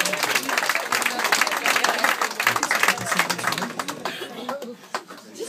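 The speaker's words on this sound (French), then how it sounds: "Merci d'applaudir Jean-Jacques." An audience applauds a participant at a hypnosis show in a café, a busy burst of many hands clapping with some crowd murmur, growing sparser and thinning out toward the end.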